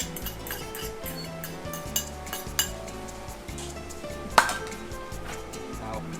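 Potato for a vegan sausage roll is mashed and broken up with a fork in a bowl, giving irregular clinks and taps of metal on dishware over a soft background hum, with a sharper knock near the end.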